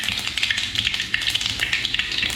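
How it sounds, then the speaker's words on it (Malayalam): Mustard seeds popping and crackling in hot oil in a home kitchen pan, a dense run of sharp little taps and spits with no voices. "കടുക് പൊട്ടണം."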